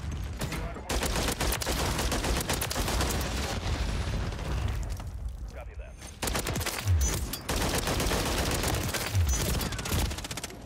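Rapid bursts of Holger 556 double-barrel conversion gunfire and other weapon sounds in Call of Duty MW3, loud and dense with a brief lull partway through, mixed with game effects.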